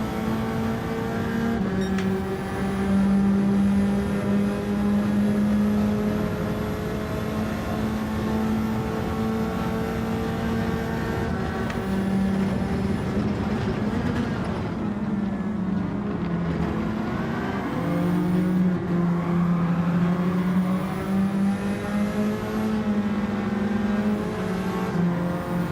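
A race car engine in Gran Turismo 7 drones loud and continuous, its pitch climbing and dropping as it accelerates and shifts through the gears. Other cars' engines join in during close lobby racing.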